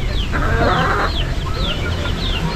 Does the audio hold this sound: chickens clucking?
yes